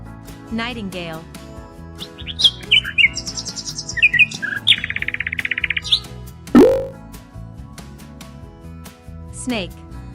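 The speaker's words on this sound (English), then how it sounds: "Nightingale." A nightingale's song comes as bright chirps and a rapid trilling run mid-clip over a steady musical backing in a children's animal-names song.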